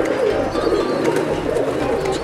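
Pigeons at a rooftop loft in Sialkot, including Chohe Motiyo wale, Chat wale and Kale Moon wale breeds, coo in soft overlapping rolling calls, close and continuous.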